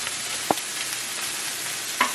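Vegetables stir-frying with sauce in a home kitchen pan, a steady close sizzle throughout with a couple of brief clatters, no talking.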